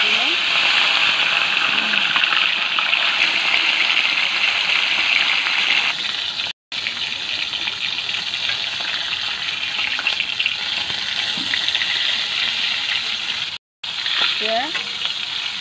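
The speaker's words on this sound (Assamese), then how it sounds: "মোৰ মাছটো ফ্ৰাই হৈ গ'ল" Fish frying in hot oil in a home kitchen, with a loud, steady, close sizzle that runs almost the whole time apart from two brief cuts.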